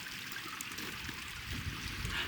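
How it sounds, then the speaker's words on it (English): Glacial meltwater stream flowing off Root Glacier in Wrangell-St. Elias, a soft continuous trickle and gurgle at moderate distance, steady and unaccompanied by voices. "You can drink the water coming off the glacier."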